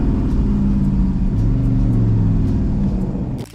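Engine of a 1989 Dodge Shelby Dakota performance pickup truck, a loud steady low rumble with rising and falling rev tones throughout, cutting off abruptly near the end.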